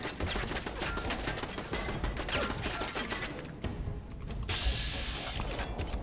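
Machine gun turrets firing in the video game Fallout 4, a dense continuous rattle of automatic gunfire with mechanical clatter and crashes, loud throughout, with a high whine layered in near the end.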